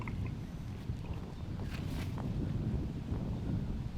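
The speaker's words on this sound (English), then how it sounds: "You can hear it's a little windy today." Wind blows across an outdoor disc golf course during a tournament round, a steady low rumbling buffet against the microphone that fills the whole moment with no pause.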